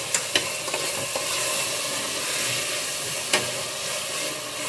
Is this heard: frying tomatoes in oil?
yes